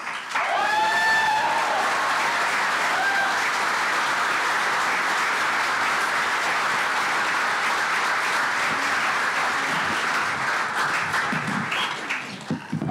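A large audience at a Star Wars anniversary panel in New York applauds steadily as authors come on stage, a dense, loud wash of clapping that holds for the whole stretch, with a few cheers near the start.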